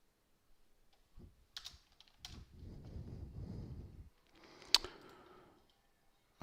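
Fingers tap the keys of a computer keyboard in quiet, uneven bursts of clicks, close up, with a louder single click partway through and no voices.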